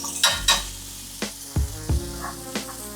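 Deer meat fries in a large nonstick sauté pan with a soft sizzle, broken by several distinct clanks and scrapes of a utensil against the pan.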